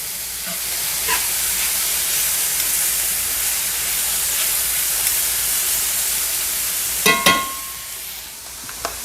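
Onions sautéing in a pan for steak alla pizzaiola, a steady soft sizzle running throughout with a few brief clatters of a utensil near the end.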